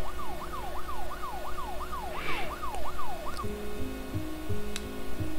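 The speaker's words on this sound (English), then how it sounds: "I hear the sirens." Rising and falling wail of an emergency siren in the horror game Fears to Fathom Home Alone, steady and loud, cycling rapidly before switching to a lower two-tone pattern, with no voices over it.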